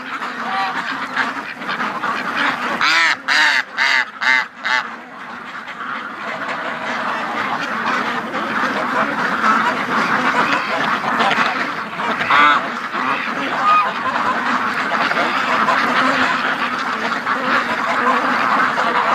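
Ducks, including Muscovy ducks, quack together in a loud, close, overlapping chorus that runs throughout, with a burst of rapid repeated calls near the start.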